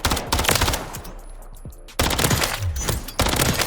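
Rapid SMG gunfire in Call of Duty MW3, loud close automatic bursts with a short gap in the middle and then further sustained bursts, no talking.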